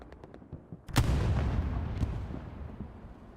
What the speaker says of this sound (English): I'm not quite sure where that Panzer IV is firing at